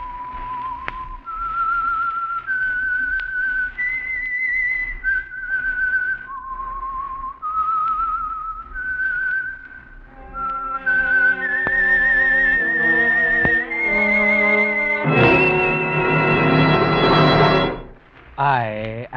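The whistled theme of The Whistler, a classic horror radio drama sponsored by the Signal Oil Program: a lone, loud, melodic whistle climbing in steps before an orchestra swells in beneath it.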